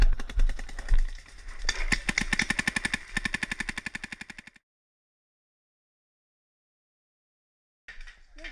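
Rapid bursts of paintball gun shots crack in quick succession at close range during an outdoor paintball game, a steady rattling volley that stops abruptly, followed by silence and a brief return of noise.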